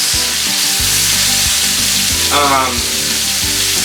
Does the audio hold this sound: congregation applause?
no